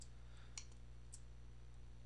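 A computer mouse gives two faint, sharp clicks about half a second apart while photos are being selected in Picasa on Windows, set against a steady low electrical hum.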